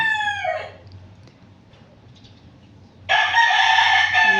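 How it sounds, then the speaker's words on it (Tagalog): A rooster crows loudly nearby, its call trailing off, then after a quiet pause a second loud crow begins and continues. "May alagang manok. Kaya pasensya na po talaga sa ingay dito sa bahay ko"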